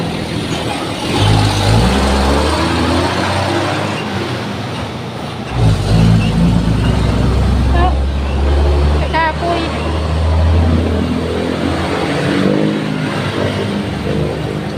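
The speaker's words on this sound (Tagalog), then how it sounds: "May mga dumadaan nga lang bus dito." Buses and other road traffic pass along a roadside, engines rumbling and swelling loud and near, with a voice talking over the steady vehicle noise.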